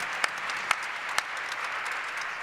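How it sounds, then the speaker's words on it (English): Faint, thin applause from an audience at an education and poverty talk, a steady patter of clapping with a few sharper claps standing out, distant and brief. "that's absolutely worth clapping for"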